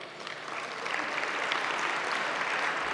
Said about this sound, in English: a round of applause for John Lipp